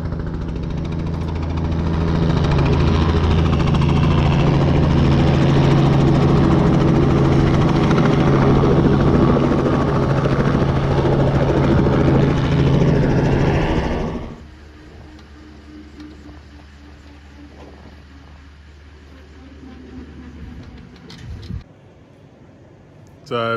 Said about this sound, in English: there was a helicopter that was out mustering, coming into land in the car park